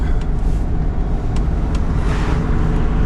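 A VW T4 camper van drives through a Northamptonshire village, giving a steady, close interior engine drone and road rumble throughout.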